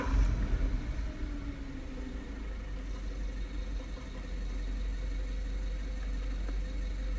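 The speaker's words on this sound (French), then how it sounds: "Ça semble nickel, le moteur tourne." BMW 116i with the N43 engine idling after a spark plug replacement: a quiet, steady low rumble with a slightly rougher start, settling into an even hum, no voices.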